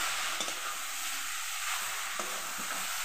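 Salted, softened shredded cabbage is stirred into a sizzling pan, a continuous close frying hiss with soft stirring scrapes and no talking.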